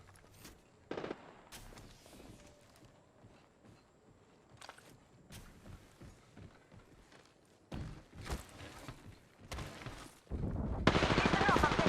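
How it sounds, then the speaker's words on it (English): Gunfire in the video game Apex Legends, with scattered single shots and short bursts amid footsteps and game effects, ending in louder sustained firing; game voice lines are heard too. "Listen up, I'm getting shot at."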